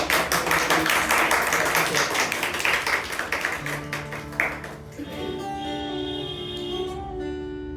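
Audience applause for Tasif at a student art exhibition performance, a dense burst of clapping that fades after a few seconds as a sustained tone with voices takes over.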